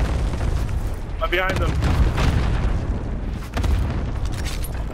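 Airstrike explosions in the Warzone video game, several muffled booms and bursts rumbling through the clip, with gunfire-like cracks between them, heard under excited players' voice chat.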